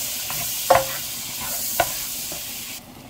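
Butter sizzles in a hot pan for a ham macaroni gratin, a soft, continuous hiss broken by two light utensil taps against the pan, close by and without speech.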